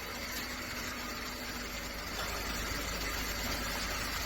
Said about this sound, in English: cylinder number 2 does have a misfire one time already just from starting the vehicle